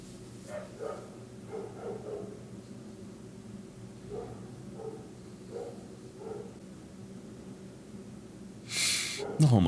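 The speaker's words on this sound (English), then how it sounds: "Great, more dogs barking." Dogs barking in the distance outdoors, scattered barks and yips coming in short bursts, faint and muffled.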